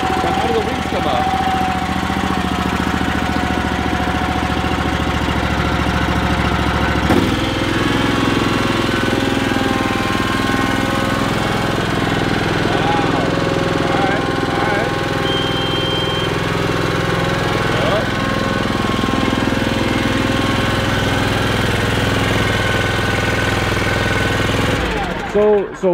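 Diesel engine of an Exmark 96-inch wide-deck mower running steadily at close range, a loud continuous droning rumble with a slight shift partway through, with people talking over it.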